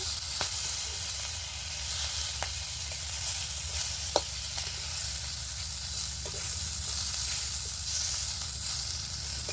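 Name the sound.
magur fish frying with ginger and cumin paste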